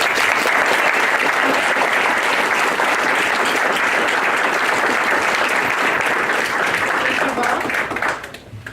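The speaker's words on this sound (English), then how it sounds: "I think we need to give the candidates a round of applause." Audience applause at a League of Women Voters candidate forum: a dense, steady roomful of clapping holds for about eight seconds, then fades out at the very end.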